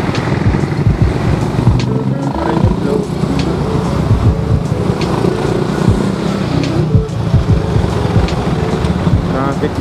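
Steady road and engine noise from riding a motorcycle through traffic, with wind buffeting the microphone and a constant close rumble throughout.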